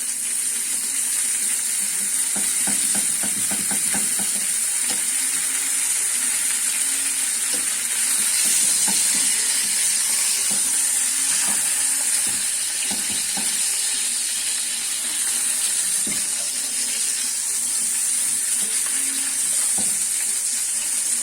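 Bread dough frying in a pan, a steady close sizzle and hiss throughout with occasional scraping and tapping of utensils, no talking.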